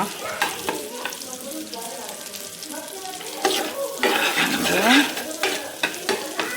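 Butter melts and sizzles in a pan for paneer kadai, a close bubbling sizzle broken by repeated spatula stirs and scrapes, growing busier and louder midway before easing off.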